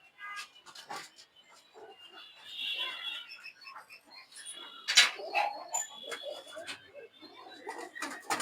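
Pigeons in an old pigeon keeper's loft in Manda, sparse soft coos and fluttering calls at close range, with scattered clicks and other bird chatter between them.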